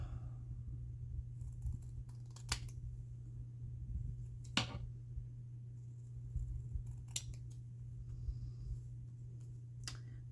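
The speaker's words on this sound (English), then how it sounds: "I need to use scissors now." Several crisp, sharp snips of scissors cutting paper, spaced a second or two apart over a low steady hum, close and fairly quiet.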